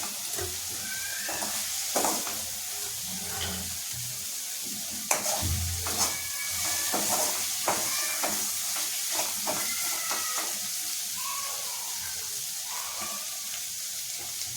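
Oil sizzling in a pan while cooking bombil bhath, a steady hiss with scattered crackles and occasional spoon scrapes, close and continuous with no talking.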